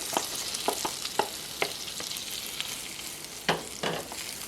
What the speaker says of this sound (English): Once it melts, you add your zucchini.